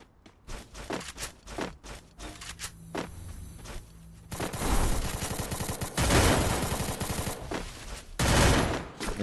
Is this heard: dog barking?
no